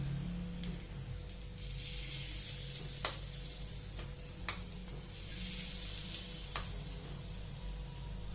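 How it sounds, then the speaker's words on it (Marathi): Hot tadka tempering is poured over raw mango chutney, producing a sustained, fairly quiet sizzling hiss with a few sharp ticks scattered through it, heard close and without voices. "हा तडका याच्यावरती असा ओतून द्यायचा. असा चरकनाचा आवाज आला पाहिजे."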